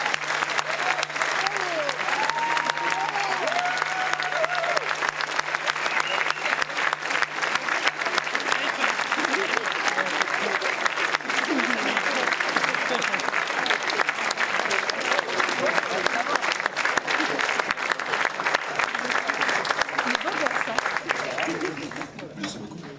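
A theatre audience applauds film director Fede Alvarez at an Evil Dead screening, loud, continuous crowd clapping with scattered voices and cheers mixed in, holding for about twenty seconds before starting to fade.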